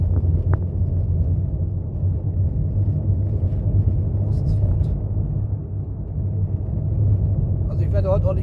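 Steady low rumble of a front-wheel-drive car on all-season tires climbing a mountain road on the E6 in northern Norway, a continuous engine and road drone with wind buffeting, heard from inside the vehicle.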